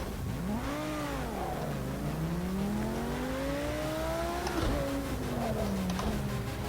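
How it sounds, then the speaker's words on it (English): A Lamborghini Huracan GT3 race car laps the Le Mans International Karting Circuit, its loud engine revving up and down through rising and falling gear pulls, close and continuous, with brief shifts between gears. "we are going to drive a lap around the Le Mans International Karting Circuit in this Huracan GT3 car"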